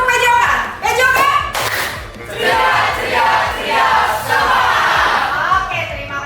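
Schoolchildren in a classroom perform a rhythmic clapping chant led by their teacher, loud and close, with sharp bursts of hand claps mixed into shouted group chanting.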